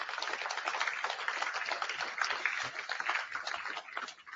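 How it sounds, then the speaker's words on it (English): Audience applause at a corporate full-year results presentation for an apprentice's award, a soft, distant, continuous patter of many hands without talk over it. "I think that deserves a round of applause."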